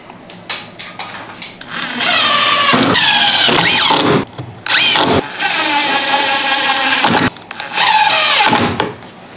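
Power drill driving screws into a table saw infeed table, with several loud bursts of whirring motor separated by short pauses, close up with no talk.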